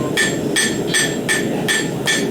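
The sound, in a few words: check style hammer being handled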